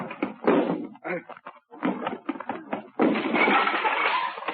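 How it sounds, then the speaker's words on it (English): A door crashed down as a radio drama sound effect in a 1940s adventure show set on the China coast, with heavy slamming and breaking thuds in bursts, ending in a sustained loud crash of wood. "Stand back so I can crash down this door."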